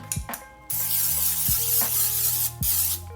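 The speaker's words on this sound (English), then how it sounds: "I got my pie crust. I'm going to spray it a little bit." Several bursts of cooking spray hiss loudly up close onto a pie crust, each a few seconds long with short pauses between, no talking.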